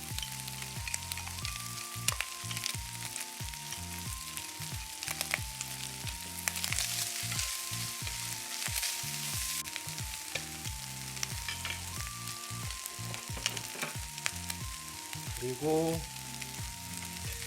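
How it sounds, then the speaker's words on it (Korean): Bacon, onion and chwinamul fry in a pan for bacon fried rice, a steady sizzle running beneath prominent background music, with a brief spoken word near the end. "자, 베이컨을 넣고요. 그 다음에 양파도 같이 넣겠습니다."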